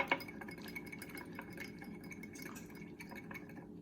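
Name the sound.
whisking minced garlic mixture in a bowl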